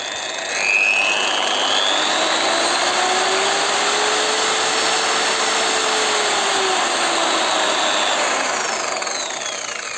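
A Ronix 6112 polisher runs at its lowest speed, giving a steady, fairly quiet electric whine with a faint rising and falling motor tone, close by and alone for the whole stretch.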